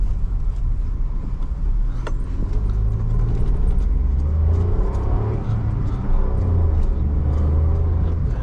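A CNG-fuelled car strains to climb a slope, its engine giving a steady low rumble and drone with labored revving, close and continuous throughout with no talking.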